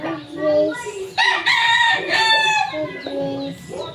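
Roosters crow in long drawn-out calls while chickens cluck and chatter nearby, a busy farmyard chorus with overlapping loud crows and shorter clucks throughout.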